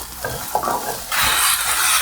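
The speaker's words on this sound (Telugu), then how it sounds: "నేను ఈ విధంగా ఆయిల్లో మగ్గించి చేస్తున్నాను" Raw tamarinds stirred and fried in oil for a tamarind pickle: a few soft scraping stirs in a pan, then a steady, fairly close sizzle takes over for the last second, with no talking.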